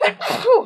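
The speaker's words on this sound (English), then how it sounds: "I sneezed on you." A single sharp human sneeze, close and loud, quickly followed by a short laughing exhale in a casual indoor setting.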